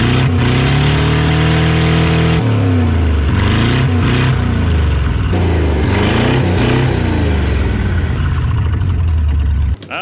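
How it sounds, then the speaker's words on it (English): A cheap old Ford V8 car engine revs hard and loud with rising and falling pitch sweeps, heavy low rumble throughout, close by, no talk. "You just don't beat that sound of a V7."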